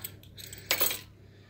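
A short bright metallic jangle of keys at a yurt campsite, one brief burst of clinking after a few faint taps, fairly close and alone.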